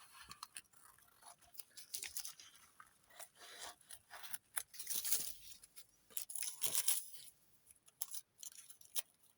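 Scissors snip and trim paper for a collage in quick irregular bursts of close, crisp cutting and rustling, with no talking over the sound.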